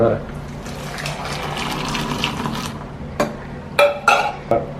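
Spiced masala tea poured in a steady stream with a watery splashing rush for the first few seconds, followed by a few louder clinks and splashes, all close by.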